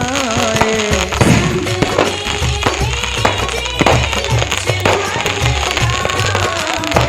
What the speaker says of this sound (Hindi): लोग आतिशबाजी करते हुए इसकी खुशी में डूबे हैं।